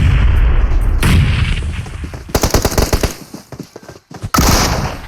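Loud gunfire and explosions in the mobile battle game PUBG Mobile: a heavy rumbling blast, then rapid bursts of automatic fire with sharp single shots and a final crack, all close and dense.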